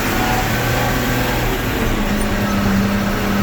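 A big farm tractor engine running in 5th gear near PTO range, giving a loud, steady, continuous drone with a low hum and no pauses.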